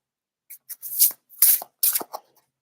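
A deck of tarot cards is shuffled by hand in several short, crisp bursts of riffling and rubbing, close and clear with silent gaps between them.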